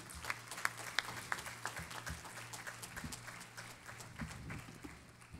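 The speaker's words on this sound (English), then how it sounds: "let us give again a big round of applause to these amazing talents" Award ceremony audience applauding: a continuous wash of many hands clapping, fairly faint and distant, with scattered sharper claps standing out.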